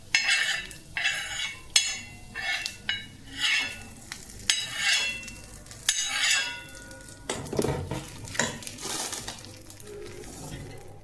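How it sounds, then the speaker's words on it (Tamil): Hot tempering is poured into groundnut chutney, bringing sizzling bursts amid repeated stirring and clinking of a utensil against a pan, rhythmic and close. "இப்போ வந்து நம்ம தாளிப்பு வந்து சட்னியில் கொட்டிடலாம்."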